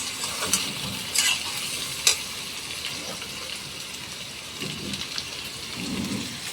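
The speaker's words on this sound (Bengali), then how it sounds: "আলুর সঙ্গে কুচুগুলোকে ভালোভাবে মিশিয়ে নিচ্ছি।" Taro and potatoes being stirred together in a hot pan for a hilsa fish curry, an even crackling sizzle with a few sharp spatula knocks early and low scraping strokes later.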